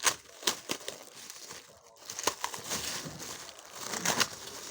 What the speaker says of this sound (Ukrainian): Так, відірвали скотчик.